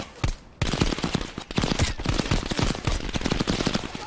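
Rapid automatic gunfire and single shots from a Cold War-era shooter campaign battle, dense and continuous bursts close by, with no talk over it.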